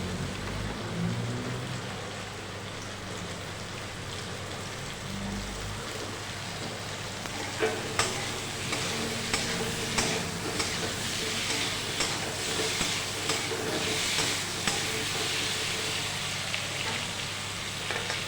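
Cut potatoes fry in oil along with softened tomato and onion, a steady sizzle that grows busier with sharp crackles and pops in the second half, close and without speech.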